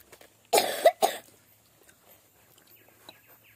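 A child gives two close, harsh coughs in quick succession indoors during a meal, followed by quiet room sound.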